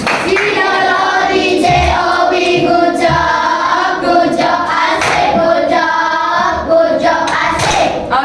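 A classroom of pupils performs a rhythmic tepuk clapping routine, sharp claps in a steady patterned beat with young voices chanting along throughout, loud and close.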